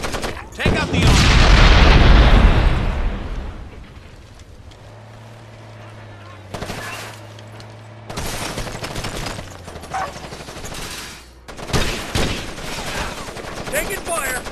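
Gunfire and heavy explosions from the video game Ghost Recon Advanced Warfighter: a loud opening blast rolls into bursts of shots, with a steady low drone beneath and further sharp impacts and volleys later on.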